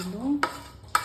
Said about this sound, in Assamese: আদা নহৰু পেষ্ট আৰু নৰসিংহ পাত এইটো ভালকৈ মিলাই ল'লোঁ